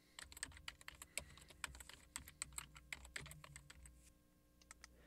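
Rapid, irregular keystrokes on a computer keyboard, close and clear, with no talking, tapering to a few scattered taps near the end.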